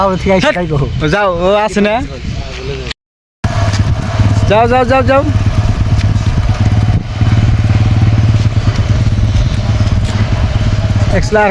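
A motorcycle engine runs at a steady, close, low idle rumble for most of the stretch, under people talking loudly and laughing outdoors.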